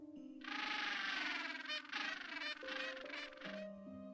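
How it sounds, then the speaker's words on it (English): A penguin call plays as a guess-the-sound puzzle: a loud, buzzy, braying run of honks in several bursts, with a steady low tone underneath. "It's a penguin."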